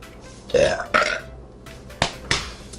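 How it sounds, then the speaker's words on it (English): Several loud, close burps in a row, two drawn-out belches followed by two shorter, sharper ones, with no talking around them. "As always, I'm burping in every single video"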